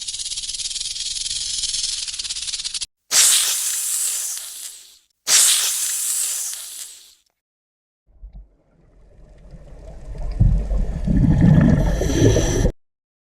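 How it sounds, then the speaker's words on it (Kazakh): A snake hisses in three loud, breathy bursts separated by brief silences. A lower, rougher huffing rises afterward and carries on until it stops abruptly. "Жылан."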